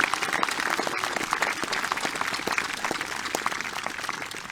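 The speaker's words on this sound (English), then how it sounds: "Let's give our graduates with high distinction a round of applause." At a high school commencement, the crowd claps for graduates earning high distinction, a fairly soft but continuous round of applause with individual sharp claps standing out near the listener.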